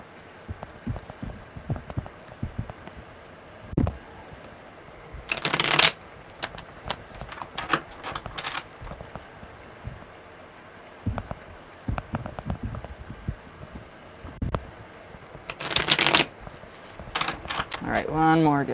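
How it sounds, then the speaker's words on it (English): Tarot cards shuffled by hand during a live reading, two short crisp riffling bursts standing out from quieter handling noises, with a person talking at times in between. "Good shuffle. I love those."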